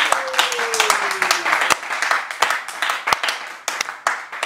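A congregation claps and applauds in praise of the Lord at a church gathering, a dense, steady wash of many hands with sharper individual claps standing out, while a faint voice speaks underneath.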